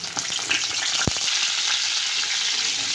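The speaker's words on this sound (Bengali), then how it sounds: "আগে আমি ফুলকপিগুলো ভেজে নেব।" Cauliflower florets, rubbed with salt and turmeric, frying in hot oil in a wok, giving a steady close sizzle throughout with a brief sharp crackle about a third of the way in.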